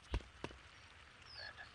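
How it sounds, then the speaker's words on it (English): Two short frog croaks sound close together near the start of a scene in the PC game Harry Potter and the Philosopher's Stone, followed by quiet ambient game background. "I can hear a frog, but I don't know where the fuck it is"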